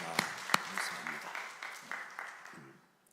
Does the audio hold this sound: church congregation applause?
yes